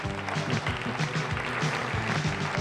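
Audience applause at an award presentation ceremony, dense steady clapping from a crowd filling the whole stretch, fairly loud and even throughout with no talk over it.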